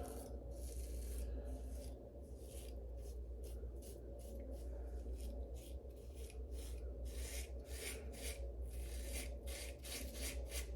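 A Harry's razor scrapes across a week's worth of stubble in quick, rasping strokes that repeat at close range. The sound is faint and rhythmic over a low background hum.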